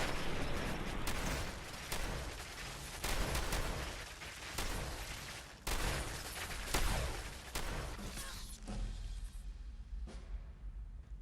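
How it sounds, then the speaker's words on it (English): Modded weapon firing in Fallout 4, a dense run of loud reports and booming impacts over a continuous roar, with a few sharper shots standing out before it thins near the end. "Now this is another one of Groove's weapons."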